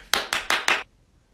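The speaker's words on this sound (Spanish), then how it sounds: "¿Por qué aplaudes" Hands clap four times in quick, even succession, crisp and fairly close, then stop into quiet.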